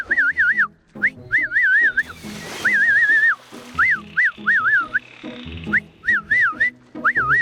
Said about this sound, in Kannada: ಸೀಟಿ ಹೊಡಿ, ಸೀಟಿ ಹೊಡಿ.